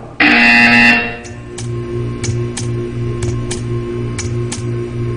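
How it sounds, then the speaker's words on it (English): A harsh electronic buzzer sounds in the video game Portal 2, one loud blaring burst just under a second long, followed by a steady hum with a regular ticking pulse. "You will hear a buzzer. When you hear the buzzer, stare at the art."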